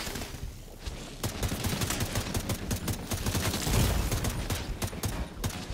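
Sustained video-game gunfire from Tom Clancy's The Division 2, dense rapid bursts of automatic shots overlapping continuously at close range, with no talking.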